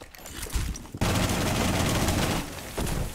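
A shotgun and other guns fire in a Rainbow Six Siege match, with a sudden loud burst of rapid gunfire that holds steady for about a second and a half, then eases and flares again.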